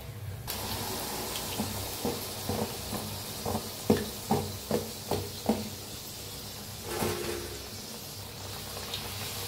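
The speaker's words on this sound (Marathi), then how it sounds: "शक्यतो मी ट्राय करते की एकदम लो फ्लेमवरच मी फ्राय करते." Methi paratha shallow-fries in oil over a low to medium gas flame, a constant close sizzle and bubbling with a run of soft, evenly spaced knocks and taps partway through.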